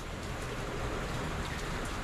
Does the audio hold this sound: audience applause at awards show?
no